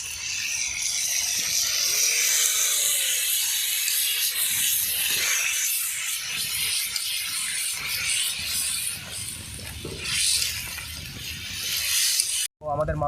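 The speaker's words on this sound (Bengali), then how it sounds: "এবার জল দিয়ে দেবো পরিমাণ মতো" Water poured into a cooking pot of deshi-style mutton curry, a continuous hissing, sizzling rush that runs for several seconds and then settles into a bubbling simmer.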